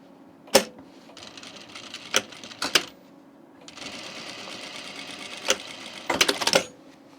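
Sewing machine stitching along an existing seam line on a jean jacket collar, running in steady bursts of machine whir broken by short pauses, with a few sharp clicks and knocks between runs.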